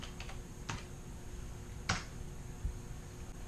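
Someone types on a computer keyboard while looking up repair labor for a 2015 Jeep Patriot 2.4-liter, with a few scattered faint key clicks and one sharper tap over a steady background hum.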